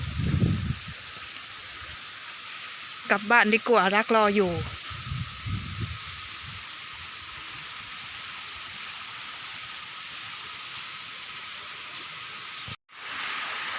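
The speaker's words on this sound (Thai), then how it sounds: "ฝนตก" Steady rain hiss runs throughout, with a voice speaking briefly near the start before the rain continues alone.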